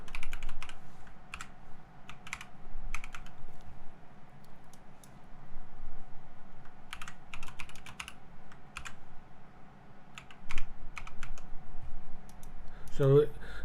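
Typing an admin password on a computer keyboard, with scattered clusters of light, crisp key clicks coming in short bursts over a quiet background hum, while a voice talks throughout.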